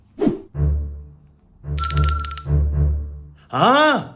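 A bell rings in a short bright burst of metallic tones between stretches of speech, near and clear, followed by a rising and falling vocal sound at the end.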